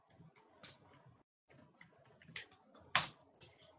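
Quiet keystrokes on a computer keyboard in an office setting, a sparse run of light clicks with a short pause and one sharper tap near the end.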